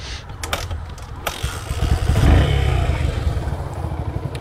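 A Yamaha SRX motorcycle's single-cylinder engine runs close by with a low steady thump, rising briefly in a swell of revs midway before settling back, with some clicks and clatter over the top.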